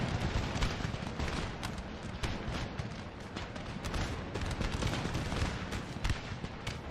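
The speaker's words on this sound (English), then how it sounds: "Undaunted, the cannon battery annihilates yet another battalion in the killing field" Cannon battery fire from a Napoleonic 1809 campaign strategy game rolls on as a dense, continuous barrage, with sharp overlapping reports over a steady rumbling roar and no voices.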